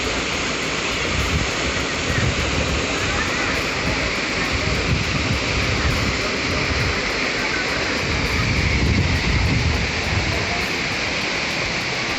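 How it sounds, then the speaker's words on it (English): A waterfall pours into a lake at Prado, producing a loud, steady broadband roar that stays constant throughout, with some wind buffeting on the microphone. "going back to the main waterfall, in front of it there is a huge rock about 5 meters high"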